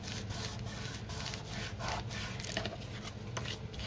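Steady dry rubbing as a hand presses down a glued paper envelope pocket, continuous close friction with no pauses and no talk.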